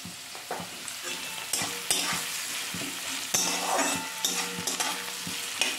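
Two chopped onions frying on a high gas flame, giving a continuous close sizzle broken by repeated scraping stirs of a spoon against the pan, with no voices.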